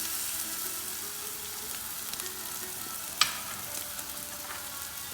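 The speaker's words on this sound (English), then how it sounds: "onions to saute for 10 minutes" Onions, baby shallots for a village-style curry, sizzle steadily in a pan, a continuous close frying hiss with one brief sharp tap partway through.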